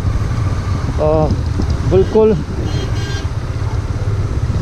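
Motorcycle engine running steadily while riding a snowy mountain road in Spiti Valley during snowfall, with a broad continuous rumble and wind noise throughout and a voice speaking briefly over it.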